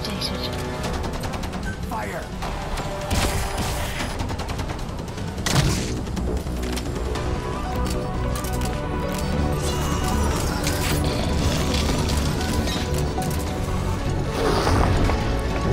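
Dense, sustained gunfire from Metal Gear Solid V: The Phantom Pain, with rapid bursts and occasional heavy booms running nearly continuously at close range, while a voice talks over the shooting.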